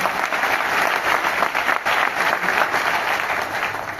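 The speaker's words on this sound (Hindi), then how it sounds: "तो एक बार इसके लिए जोरदार तालियां।" Loud, sustained applause from an audience at a Vestige marketing plan event in Delhi, a dense wash of clapping that holds steady throughout with no pause.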